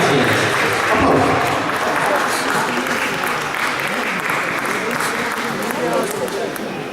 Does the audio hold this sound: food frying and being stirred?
no